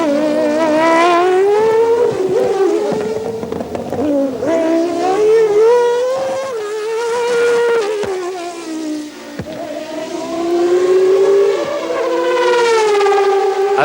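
A 1990 Peugeot 905 race car with a 3.5-litre naturally aspirated V10 shrieks at high revs, its piercing whine sweeping up and down in pitch through gear changes, loud and close throughout.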